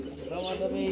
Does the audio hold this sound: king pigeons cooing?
yes